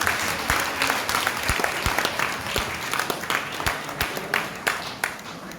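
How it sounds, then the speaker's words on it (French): Audience applause at a jubilee Mass celebrating a priest's 40 years of priesthood, a steady crowd of clapping hands sustained throughout at moderate distance. "Vous applaudissez."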